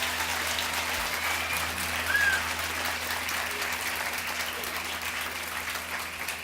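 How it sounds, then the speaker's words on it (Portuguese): An audience applauds steadily at a televised show in Brazil, a dense wash of clapping that holds at an even level for several seconds with a brief swell midway. "Senhoras e senhores, uma salva de palmas."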